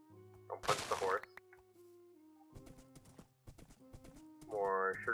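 Horse sounds in Minecraft, a short burst of clip-clop hoof thuds with a brief whinny near the start, followed by scattered game clicks and a rising noisy swell at the end, no voices.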